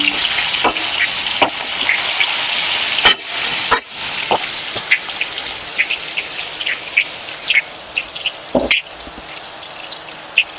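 Garlic fries loudly and close in a pan with a dense, continuous sizzle. Scattered pops and crackles rise above it, along with a few sharper knocks.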